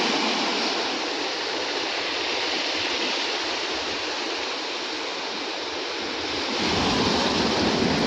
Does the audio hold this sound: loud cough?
no